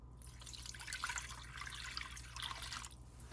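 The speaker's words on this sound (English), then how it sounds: "Okay, I'm gonna take 3 cups of warm water." Warm water poured into a mixing bowl while making hybrid sourdough bread: a soft, steady splashing trickle lasting a few seconds, fairly quiet and close.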